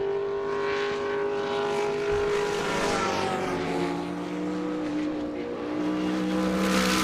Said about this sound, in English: Ferris Car Toomey, fastest car around Road Atlanta.